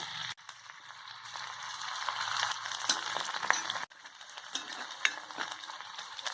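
Poppy seed paste fries in a pan with a faint, soft sizzle, broken by light stirring scrapes and a few small clinks.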